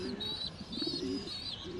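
Pigeon cooing close by, a pair of soft, rolling low coos in quick succession with a faint higher chirp above, in a domestic pigeon loft.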